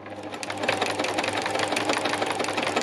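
Close, continuous whir of a sewing machine stitching down a covering layer at a slow, even pace, with a steady mechanical chatter and no voices.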